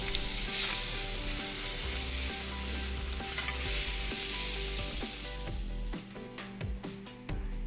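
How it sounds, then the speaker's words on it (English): Lamb chops seasoned only with salt and pepper sear in a hot pan, giving a steady close sizzle that continues throughout, with a few light scraping and clinking touches near the end. "And I'm gonna sear it off."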